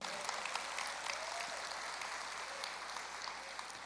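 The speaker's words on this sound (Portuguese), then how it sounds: "Pode aplaudir ao Senhor." Sustained applause from a church congregation, a dense steady patter of clapping that holds at an even level throughout.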